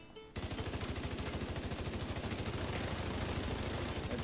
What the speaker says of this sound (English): I'm just hip firing him